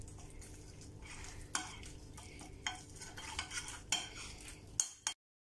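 Yogurt is stirred into a tikka masala marinade with a spoon, giving soft wet scraping and stirring strokes with occasional clinks against the bowl, close but fairly quiet, before the sound cuts off abruptly at the end.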